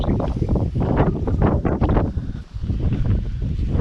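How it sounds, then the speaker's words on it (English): Strong valley wind near Dale Head in the Lake District roars and buffets against the microphone in heavy, uneven gusts, loud and constant throughout. "Already, even in the valley, the winds are strong."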